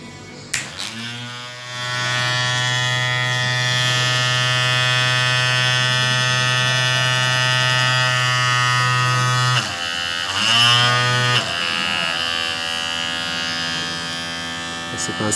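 Homemade 12V high voltage generator, a loud continuous electric buzz with a strong low hum, briefly interrupted and restarted near the end, close by.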